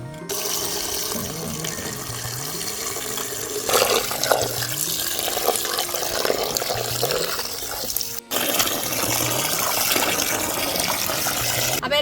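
Water runs steadily from a tap as fish pieces for pickle are washed, a continuous close splashing and gushing with rhythmic swishes and a brief break near the end.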